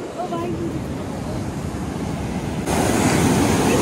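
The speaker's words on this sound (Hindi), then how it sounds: "नदी का बहाव बहुत तेज है गंगा जी का।" Fast-flowing Ganges river rushing past a rocky bank on the Gangotri pilgrimage route, a steady broadband roar that grows louder partway through, with wind buffeting the microphone and no talk.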